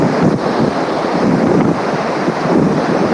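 Ocean waves wash against the shore while wind buffets the microphone, giving a loud, steady rushing roar with a continuous surf wash and gusty rumble, and no one speaks.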